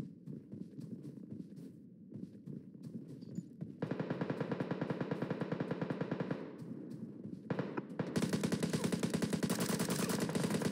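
Rapid automatic gunfire from the video game PUBG on the Livik map, sustained dense bursts that grow louder and harsher after a brief pause, close and continuous with no talking.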